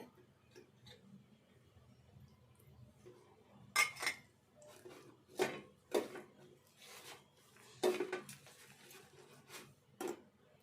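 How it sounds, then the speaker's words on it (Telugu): Spoon mixing eggplant bajji batter in a bowl, stirring until no lumps remain; a quiet scraping stir is broken by several sharp clinks of the utensil against the bowl, irregular and close, with no talking. "ఇదంతా కూడా కొంచెం కొంచెం కలుపుకుందాము."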